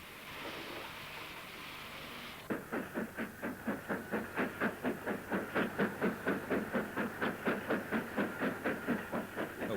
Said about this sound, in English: Ivatt Mogul 46406, LMS built in December 1946, eases up to the banking siding